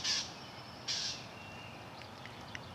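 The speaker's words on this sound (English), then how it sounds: "I think that squawking didn't it sound like a blue jay?" A blue jay gives two harsh, loud squawks about a second apart, followed by faint, distant chirps in quiet outdoor air.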